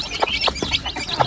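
A small flock of chickens in a farmyard on a poultry farm in Australia, clucking in quick, irregular bursts close by, with soft chirps from the young mixed in and no talking.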